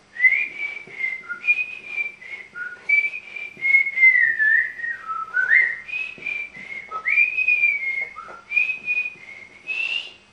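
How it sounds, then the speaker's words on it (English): A single person whistles a simple little melody alone, clear and close, with short pitched phrases sliding up and down steadily for about ten seconds. "I used to whistle this tune all the time."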